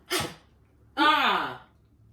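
A short sharp sneeze, then after a brief pause a longer, drawn-out second sneeze, both close and fairly loud.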